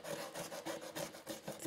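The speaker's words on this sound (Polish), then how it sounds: "Zamiast tego mogę skrobić." A paper journal being scraped, with quiet rhythmic rasping strokes repeating about every quarter second, close and faint, no talking.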